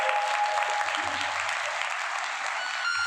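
An audience applauds at a Ram Vivah katha recitation at a temple in Lucknow, a dense, sustained roar of clapping that stays loud and even throughout.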